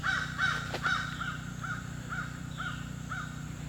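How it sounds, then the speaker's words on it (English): Crow cawing outdoors on a mountain property, a series of about eight harsh caws at a steady rhythm, loud at first and then slightly farther, over a low background hum. "crow."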